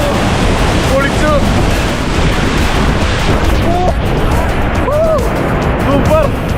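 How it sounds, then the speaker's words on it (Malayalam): A foaming waterfall near Chalakudy in Kerala rushes as a steady, loud broadband roar that fills the whole scene, with excited voices talking over it. "ഇവരെ അയ്യോ പതഞ്ഞൊഴുകുന്ന വെള്ളച്ചാട്ടം."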